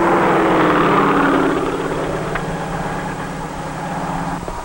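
Steady droning helicopter engine and rotor with a broad rushing whir, loud and close, slowly easing off a little over a few seconds; no voices.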